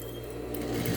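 Sewing machine backstitching at the end of a seam on a cotton dish towel trimmed with bias binding, a steady close motor whir that grows slightly louder over one second, with no voices.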